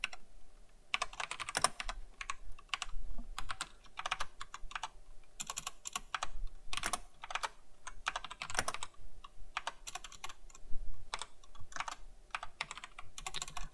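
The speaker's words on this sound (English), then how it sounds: "my typing is really shameful" Quiet, irregular clicking of keys on a computer keyboard, bursts of taps with short pauses between them, close and alone over a faint low hum.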